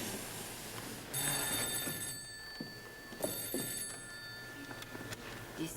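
An electric telephone bell rings indoors in two separate bursts, each a sustained metallic trill lasting about a second, heard at moderate distance over faint room noise.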